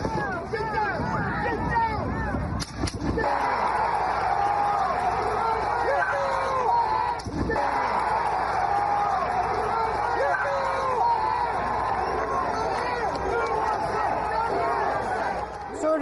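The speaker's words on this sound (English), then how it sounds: "The crowd can be heard cheering USA as Donald Trump is taken from the stage onto his vehicle" A large crowd at a Donald Trump rally in Pennsylvania chants and shouts in a dense, continuous roar with rhythmic rises, recorded from within the throng, with a couple of sharp bumps.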